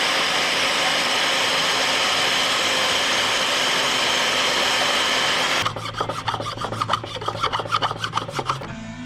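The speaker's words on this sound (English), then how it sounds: "So we're just going to grind these off of here." Plastic detents on a car shifter are ground down, first a steady loud whirring grind, then rapid rhythmic rasping strokes like filing, close up with no talking.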